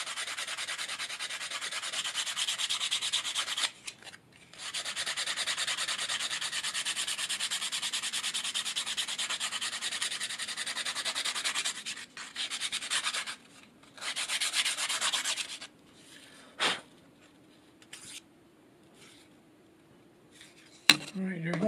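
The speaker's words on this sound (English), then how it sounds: "So I'm going to use a 80 grit sandpaper to put that edge on there" A wooden turkey box call's edge is sanded with 80 grit sandpaper in long stretches of loud, steady scratchy rubbing, then shorter bursts with pauses and a few knocks.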